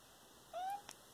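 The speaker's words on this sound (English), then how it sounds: "I'm distracted by my cat." A cat gives a single short, rising meow close by, ending with a faint click, in an otherwise quiet indoor room.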